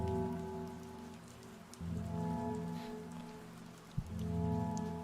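Soft, steady rain patters continuously as an ambient effect during a dramatic reading of Deltarune fanfiction, quiet and even beneath sustained musical tones, with one brief thump near the end.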